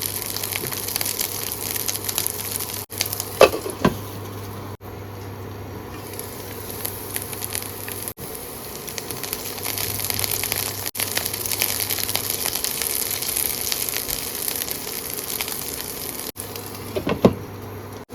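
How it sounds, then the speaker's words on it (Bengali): Garlic sizzles gently in oil over a low flame under a lid, a soft continuous crackle and hiss, with a couple of brief clatters and a low background hum. "রসুনটাকে খুব ভালো করে ভাজতে হবে আর ঢাকা দিয়ে দিয়ে লো ফ্লেমে ভাজতে হবে"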